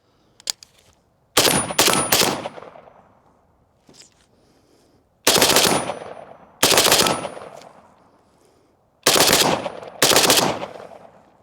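An AK rifle fires in short rapid bursts, loud and close, in several separate strings of shots with pauses between them and a few single cracks, and no voices over it.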